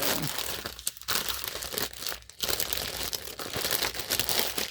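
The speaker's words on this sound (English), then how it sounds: "Sorry about all the crinkling and stuff." Plastic packaging crinkled and handled close up during an unboxing, loud continuous rustling with a few brief pauses.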